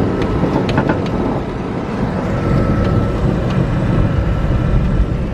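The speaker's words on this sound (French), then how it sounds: "Dans le bruit bizarre de la voiture." An old camper van with a mechanical problem drives on an Irish road, giving a steady, loud, broadband rumble and road roar that holds unchanged throughout, with faint higher rattles and no voices.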